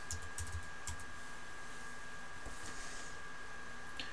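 Light typing on a Mac keyboard, a short burst of soft key clicks at the start followed by a few scattered taps, faint and close against a quiet room hum.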